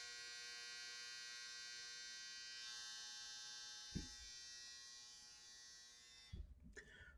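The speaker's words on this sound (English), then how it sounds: "I forgot the dryer was on." A clothes dryer runs as a steady electrical hum and whir. A sharp thump cuts in midway, then clattering knocks come near the end.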